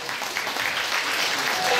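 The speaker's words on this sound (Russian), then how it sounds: "Встречаем бурными аплодисментами." Loud, continuous applause from a concert audience at a summer camp open-day show, greeting the third squad on stage; dense clapping rolls on evenly throughout with no break.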